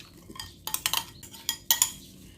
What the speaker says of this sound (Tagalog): Now I'm going to mix my sauce in here.